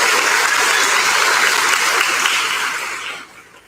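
Applause from an audience at a fifth-grade moving-up school ceremony, a dense, loud burst of clapping that holds steady before tapering off toward the end, with no voices over it.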